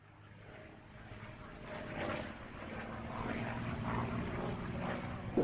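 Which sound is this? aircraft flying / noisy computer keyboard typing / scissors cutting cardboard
aircraft flying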